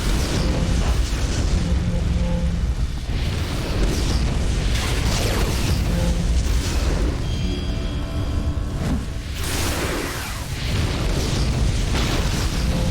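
A grenade blast in the City of Heroes video game, a loud booming explosion with a rumbling tail that fills the scene, followed by further bursts and dense game effects throughout, with no talking.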